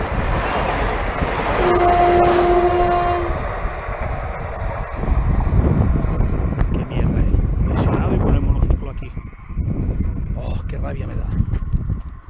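A train horn blares in a steady two-tone blast from a passing Renfe UT 447 or Civia commuter train, followed by the heavy rumbling roar of the train rushing close by.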